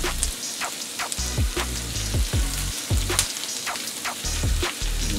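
Garlic and butter sizzle hard in a frying pan for pan-seared orange roughy, a dense close crackle with rapid pops and spits throughout.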